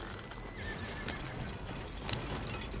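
A horse in Red Dead Redemption 2 lets out a neigh amid clip-clopping hooves and game ambience, moderately close and fairly quiet, with no speech over it.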